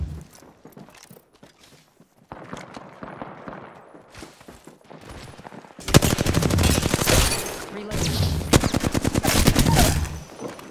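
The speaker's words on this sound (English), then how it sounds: "They spotted me. I'm taking shots." Gunfire in the battle royale shooter Apex Legends: sparse footsteps and single shots at first, then loud sustained automatic bursts crowding the second half, close and sharp.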